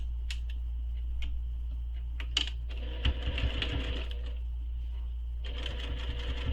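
Sewing machine stitching a seam on a backpack, a quiet steady whir with brief bursts of faster running and small clicks, heard up close against a low constant hum.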